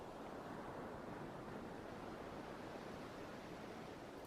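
Ocean surf rolls in a steady, unbroken wash of waves, loud and close, with no voices over it.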